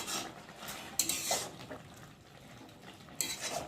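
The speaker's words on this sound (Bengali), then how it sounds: "একটু ভালো করে নেড়ে চেড়ে নেব।" A spoon scrapes and clinks against a pan as a potato and ridge gourd curry is stirred, with a few sharp metallic knocks and soft scraping between them, close and fairly quiet.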